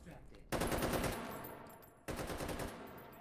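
Automatic AK rifle fire in a competitive video game match, two sustained bursts of rapid shots, loud and close, the second burst starting after a brief gap.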